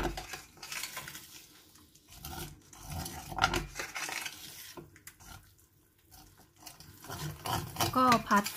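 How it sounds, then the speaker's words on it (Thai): Green curry paste being stir-fried with coconut milk in a pan, for Thai green curry with chicken. Soft scraping and stirring clinks sound with a faint sizzle, moderately quiet, and a voice talks over parts of it. "ก็ผัดกะทิหรือผัดพริกแกงให้ละลายกับกะทิให้ดีนะคะ"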